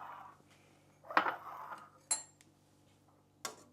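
A utensil stirs miso soup with green onion in a pot, giving a few separate clinks and scrapes against the pot with quiet pauses between them.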